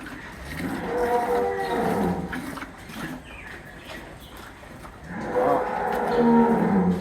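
A dairy farm cow moos twice, two long, deep calls separated by a few seconds of quieter farmyard background.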